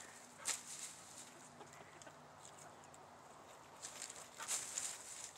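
Soft clucking from a chicken on a small homestead, faint and intermittent, with a couple of sharper bursts near the start and end.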